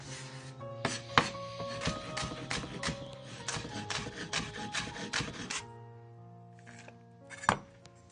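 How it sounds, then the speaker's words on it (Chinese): A knife chops scallions on a cutting board in quick, rhythmic, close taps, about a dozen crisp strikes in a burst, then a pause and a couple of final chops. "再切点葱花"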